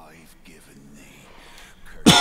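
A single sharp cough bursts out at the end, loud and close, following a stretch of quiet game cutscene sound.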